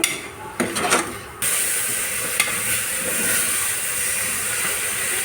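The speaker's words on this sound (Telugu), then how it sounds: "పెసరపప్పు కాసేపు వేగాలి. మధ్య మధ్యలో ఇలా కలుపుతూ ఉండాలండి." Moong dal frying in a pan for masala pongal and stirred now and then: a few scraping stirs at first, then a steady, fairly loud sizzling hiss.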